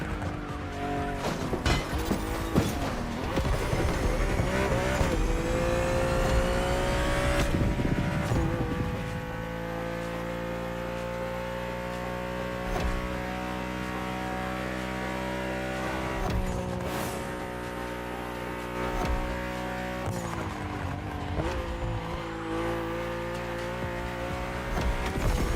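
A BMW race car in The Crew Motorfest video game howls through repeated gear changes and high revs, with sharp tire squeals, skids and a brief crash-like impact, loud and continuous over the whole run.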